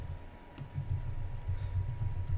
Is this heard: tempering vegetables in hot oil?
no